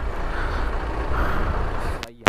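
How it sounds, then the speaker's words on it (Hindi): Dense truck and car traffic on a congested mountain road at night, a steady loud rumble of engines and tyres close by, ending in a brief sharp mechanical burst. "देखो यार गाड़ियाँ ही गाड़ियाँ हैं चारों तरफ"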